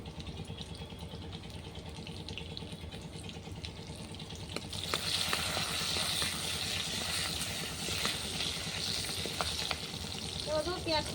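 Dried red chillies fry in oil in a pan over a clay stove, a soft continuous sizzle that grows brighter and busier partway through, with faint stirring and light background noise.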